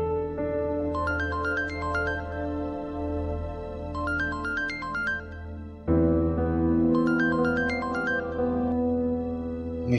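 A phone rings in repeated bursts of a bright electronic melody, three rising-and-falling phrases over a low background hum, clear and fairly close.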